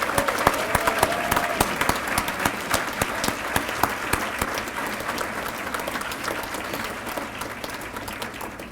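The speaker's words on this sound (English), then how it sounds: "Let's give all of our honorees one more round of applause." A room of attendees at a 2015 employee-of-the-year awards ceremony claps for the honorees, a dense, loud, sustained round of applause that slowly tapers.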